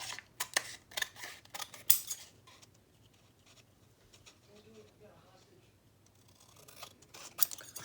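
Sharp scissors snip through paper while a junk journal belly band is trimmed, producing several quick crisp cuts close up, then a quieter stretch with faint rustling, then another snip near the end.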